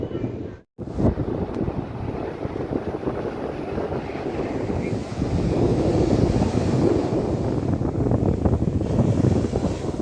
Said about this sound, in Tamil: இந்த வீடியோவை நீங்கள் பார்த்தீங்க, கடல் அலைகள் வருகிறதை நீங்கள் பார்க்குறீங்க.